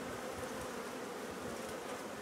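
Honeybees settled on new frames at a hive give a dense, steady buzz that stays close and even without a break, with no voices.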